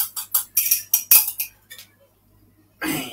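Utensils clink rapidly against a bowl while ingredients for seaweed salted caramel French toast are mixed, a close run of sharp taps and scrapes that stops, leaving a pause before a brief rustle.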